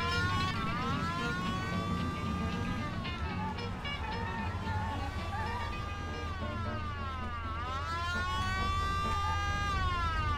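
A video game police car's wailing siren rises and falls repeatedly over a steady engine rumble, loud and continuous throughout, in Mafia I.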